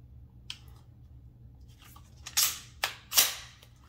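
A SIG P320 X-Carry pistol dry-fired, with several crisp sharp clicks of the trigger breaking and resetting, spaced irregularly and close up against quiet background hum.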